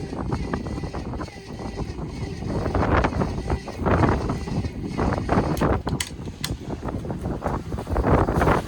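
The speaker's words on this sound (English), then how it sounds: "Oh man, it got windy." Heavy wind buffets the microphone in rough, rumbling gusts that rise and fall throughout, with no clear voices, outdoors during a compression check on a Bombardier engine.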